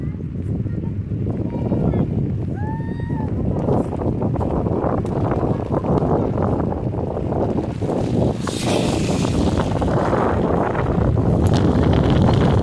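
Strong wind blows across rice paddies on a Konkan farm, a loud continuous rumble of gusts buffeting the microphone, with a voice speaking briefly over it.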